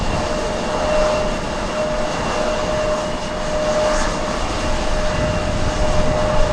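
A Boeing 767 from Copenhagen at JFK airport produces a loud, continuous jet roar with a faint steady whine, holding at an even level throughout with no voices.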